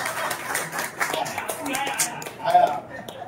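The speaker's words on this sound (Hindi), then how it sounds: "इसके लिए जोरदार ताली।" Audience applause at a railway retirement function for a train manager's crew lobby in Kharagpur, scattered uneven claps under ongoing speech.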